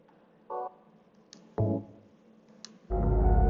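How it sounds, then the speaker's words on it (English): Skyrim's new game menu sound plays: a few soft isolated clicks and tones, then a fuller swelling chime rising at the end, quiet and with no talk. "The new game sound."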